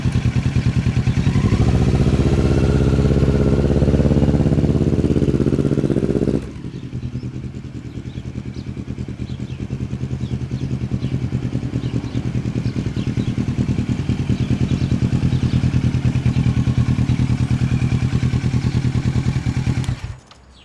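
A motorcycle runs loud and close, revving before a sudden cut, then chugs steadily as it pulls away once the clutch is released, its engine note swelling again toward the end with no talk over it.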